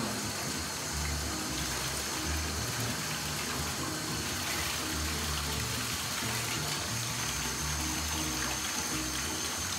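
Warm water running through the slides and tubing of a trombone during cleaning, a loud, continuous gushing flow from a nearby tap without pause.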